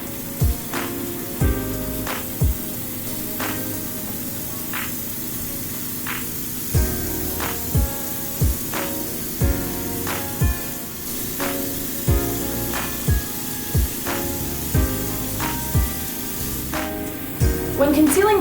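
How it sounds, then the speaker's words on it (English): Airbrush spraying foundation makeup onto a face, a steady close hiss of fine spray running throughout, with regular soft clicks and brief bursts. "I'm going to start moving in circles before I start spraying,"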